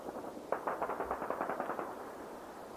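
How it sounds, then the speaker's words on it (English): Distant gunfire during an attack on Iran: a rapid burst of about a dozen shots, fairly faint, over a quiet background. "We're still hearing all this gunfire."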